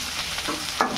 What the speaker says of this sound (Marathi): ढवळून घेऊ आपण